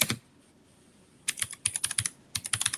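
Typing on a computer keyboard close up: a quick burst of keystrokes, a pause, then two runs of rapid, evenly spaced clacking taps, with no talk.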